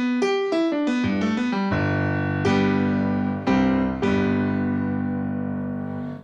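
A Korg Triton Extreme keyboard synthesizer triggered over MIDI plays a quick descending run of bright notes, then several sustained chords that ring out clearly and fade slightly at the end.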